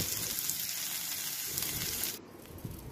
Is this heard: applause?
no